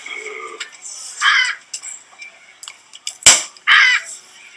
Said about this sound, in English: Parrot sounds.